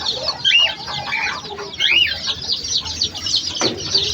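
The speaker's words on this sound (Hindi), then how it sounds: "चू चू आवाज़ आ रही थी मुर्गी की" Hens cluck nearby in a series of bright, rising calls that come in short bursts, loud and close over a quiet background.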